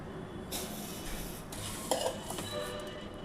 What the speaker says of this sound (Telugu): మరుగుతున్న పాలలో సేమ్యాలు అలా వేసుకోవాలి